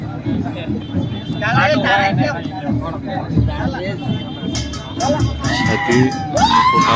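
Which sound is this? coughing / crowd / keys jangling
crowd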